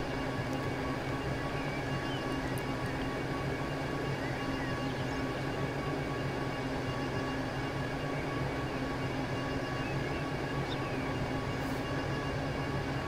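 A train hauled by a class 143 locomotive in Transport Fever 2 rolls straight through an old station without using the passing tracks, a steady, dense rumble with a faint whine, unchanging and fairly quiet throughout.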